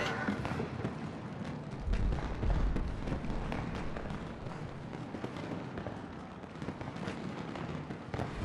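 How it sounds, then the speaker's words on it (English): Fireworks bursting over a city in Lightning Returns: Final Fantasy XIII, a dense, continuous crackle and rumble with heavier thuds near two to three seconds, steady and fairly loud throughout. "Those fireworks signal to the city that a performance is about to begin."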